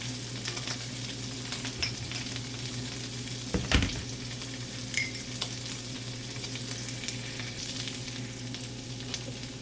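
Shrimp and asparagus stir-fry in a pan with a steady, quiet sizzle, broken by occasional clatters and scrapes of stirring and one louder knock midway.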